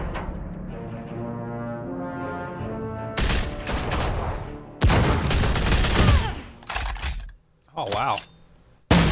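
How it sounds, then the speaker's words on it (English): Taser bullets fire in Batman: The Enemy Within as sharp, loud bursts of rapid shots in several clusters, set against a sustained musical score, with a brief exclamation spoken over the action. "Taser bullets"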